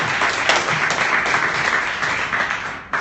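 An audience breaks into applause after an investor pitch, a dense burst of close, steady clapping that holds for a few seconds before cutting off.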